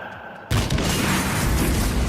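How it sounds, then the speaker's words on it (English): Fireworks in the video game Hitman go off suddenly after a quiet moment, a loud booming burst followed by a sustained rumbling crackle. "Watch out for the fireworks."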